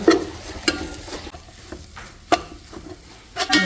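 Chicken pieces stirred into a masala in a pan for a chicken samosa filling, a quiet sizzle broken by a few sharp clinks and scrapes of the spoon against the pan, close and with no talking.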